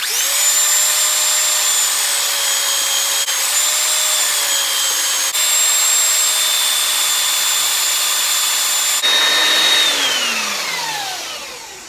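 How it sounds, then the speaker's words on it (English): A bench-mounted belt sander grinds a steel axle hub, a loud steady high whine that holds for several seconds, shifts pitch as the part is pressed, then spins down at the end. "So again, got the belt sander on the bench."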